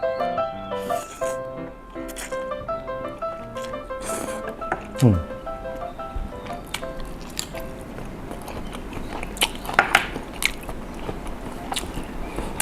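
Spicy Thai instant noodle salad with cooked shrimp being bitten and chewed up close, with moist crunchy chewing and slurping over a quiet background, with brief talk mixed in.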